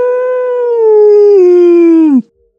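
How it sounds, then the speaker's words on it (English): A single dog howls loudly and close by in one long, sustained tone that slides slightly lower before cutting off abruptly, leaving silence. "That is until I hear one of the dogs howl."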